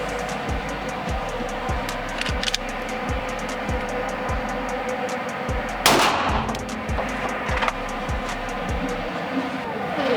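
Gunfire at an indoor shooting range: a steady run of sharp shots at a regular pace, roughly two per second, with one louder, broader blast near the middle and a few more after, all close and booming in the enclosed room.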